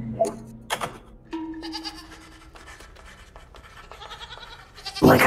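Goat bleats from a cursed sword with bells in a video game, several short bleats scattered among chiming and clicking game sounds, with a loud burst at the end.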